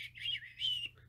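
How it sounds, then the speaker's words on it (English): A bird whistles two bright rising-and-falling phrases over a low steady hum, close and clear, as a blackbird signals the start of a race in a children's story reading. "Blackbird whistled the start of the race."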